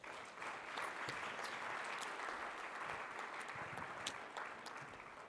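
Steady applause from a sizeable audience, dense and continuous for several seconds, with a few sharper individual claps standing out near the end.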